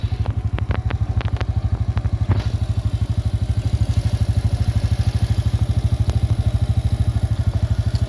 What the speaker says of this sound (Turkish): Şimdi bir marşa basalım. Alet çalıştı.